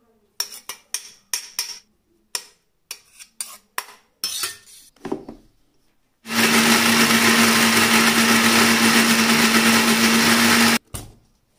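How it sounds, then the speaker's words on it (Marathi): A mixer grinder blends roasted onion, tomato and coconut for a cashew curry, starting after a series of sharp clinks and taps and running as a loud, steady whir with a strong motor hum for several seconds before cutting off abruptly. "तर थोडं थंड होऊ दे, मग मिक्सरला लावूया"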